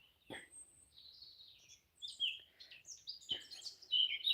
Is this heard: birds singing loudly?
yes